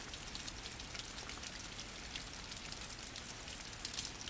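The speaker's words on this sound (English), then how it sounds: "Outside, the garden soaks in the rain" Rain falling on a garden, a steady, dense patter of drops spread evenly throughout, soft and continuous with no voices.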